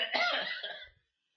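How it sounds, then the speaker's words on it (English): One harsh, wet cough bursts out close to the microphone and fades within a second, followed by silence. "It's really bad when you cough so much that you then have to swallow afterwards"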